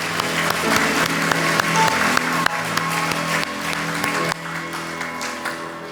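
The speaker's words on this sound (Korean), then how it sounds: "우리 살아계신 하나님께 큰 영광의 박수 올려드리면서 예배를 시작했으면 좋겠습니다" A congregation applauds warmly at the opening of a church ordination service, steady clapping from a large indoor crowd that thins and softens toward the end.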